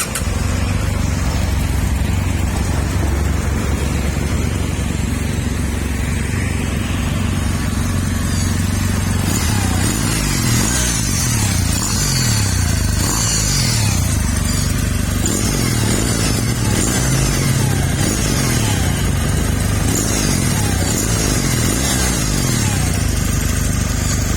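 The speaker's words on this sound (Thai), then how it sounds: "ฟังเสียงเครื่องยนต์ครับ" Engine of a Kawasaki W800 Cafe Black Limited motorcycle, a 2019 model, running steadily with a low, continuous rumble and loud throughout, no talking over it.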